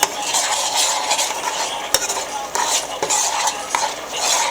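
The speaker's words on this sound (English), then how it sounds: "So now that I've been stirring, after adding the ingredients" A spoon stirs turkey neck gravy in a pot, scraping and clinking against the metal in an irregular rhythm with a few sharper knocks, close and fairly loud over a faint sizzle, with no talking.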